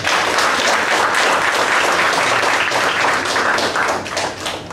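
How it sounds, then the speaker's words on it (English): Sustained applause from a meeting audience, dense and fairly loud clapping that holds steady for several seconds before easing slightly at the end, with no talking over it. "So give a big round of applause to her."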